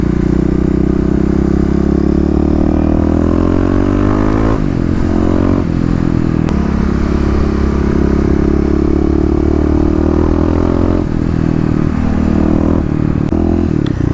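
Kawasaki KLX351 EFI motorcycle, a 2018 model, rides through a series of corners, its engine droning steadily with shifting pitch as the throttle rolls off and back on, loud and close with brief clatter between.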